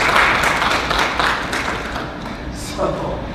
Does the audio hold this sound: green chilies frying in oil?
no